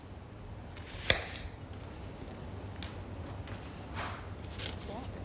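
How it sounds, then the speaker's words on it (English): A knife chops onions on a kitchen board: one sharp, close cut stands out, followed by a few fainter cuts over a low background hum. "chopping onions"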